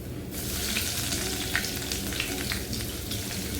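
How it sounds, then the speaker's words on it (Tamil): Crushed garlic and dried chillies sauté in hot oil for a drumstick-leaf sambar, giving a close, steady frying sizzle with light stirring clicks throughout and no speech. "நல்லா வதங்கிட்டோம்."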